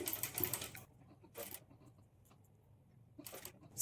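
A sewing machine stitches cloth frills for sleeve cut-work in short, quiet bursts of rapid clatter separated by pauses.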